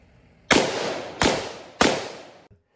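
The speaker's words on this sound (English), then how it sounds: "You're going to hear a loud crack, and the report of the round is going to tell you someone's shooting a gun." An unsuppressed 5.56mm rifle fires three loud, sharp cracks about a second apart, each with a short decaying report, close and alone.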